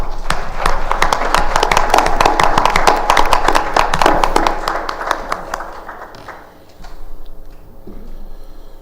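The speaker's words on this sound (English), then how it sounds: "If you could all join me in a round of applause for them." A round of applause at a school board meeting for Ravenna schools staff, many hands clapping briskly and close, then thinning and fading to scattered claps.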